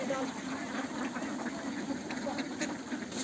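Ducks quacking repeatedly while being fed, a busy run of nasal quacks at moderate distance over a low engine-like hum, with people talking nearby.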